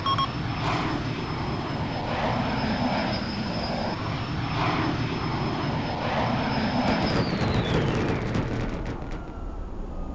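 An airplane engine roars loudly and continuously for about ten seconds, a broad steady drone with a high whine that slides downward near the end.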